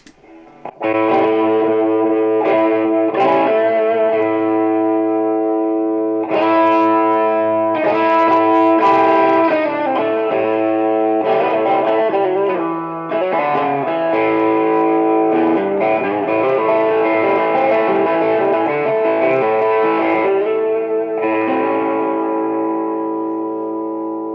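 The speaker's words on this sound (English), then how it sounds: "Some distortion." Electric guitar through a Vox MV50 amp set to heavy distortion, thick saturated chords and riffs ringing with sustain and echo, continuous and loud with no talk.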